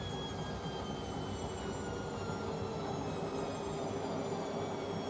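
A Bosch VarioPerfect WAK28260GB washing machine spins steadily at 300 RPM on a cottons cycle, giving a constant, even rumbling whir with a faint high whine and no talk.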